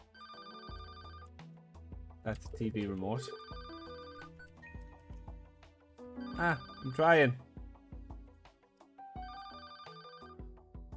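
A telephone rings in the video game Paper Lily: a repeating electronic ringtone pattern recurs steadily while a person talks over it at close range.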